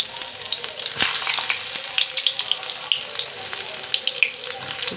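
Garlic sizzling and crackling steadily in hot mustard oil in a pan, a continuous bright fry with small pops close by.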